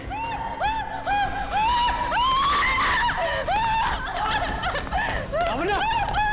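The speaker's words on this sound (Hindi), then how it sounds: "ये कैसी चीख है?" Sharp, rising and falling screams cut through a tense scene in a Hindi crime-drama episode, repeated cries close and loud amid a cluttered, busy background.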